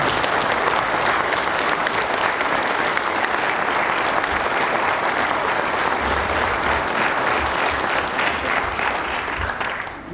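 Audience applause fills the Fayetteville Fire Department Academy graduation ceremony, honoring parents and families of new firefighters; steady, dense clapping throughout, fading slightly at the end.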